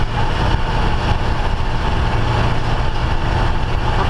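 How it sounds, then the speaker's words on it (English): A Travco motorhome engine and turbo droning steadily while climbing a steep grade, a loud, continuous low-to-mid rumble with a faint rising whine, no voices. "I don't know if you hear it starting to spool up"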